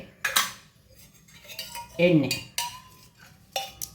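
A metal pan and utensils are handled on a kitchen stove while cooking an egg dish, with several separate clinks and scrapes of cutlery against cookware spaced out between quiet pauses.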